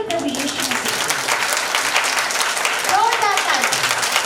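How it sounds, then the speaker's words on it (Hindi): Church congregation clapping loudly in praise during a Hindi-language sermon, a dense sustained wash of applause throughout with a voice heard over it. "जोरदार ताली।"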